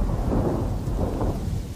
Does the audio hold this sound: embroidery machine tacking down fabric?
no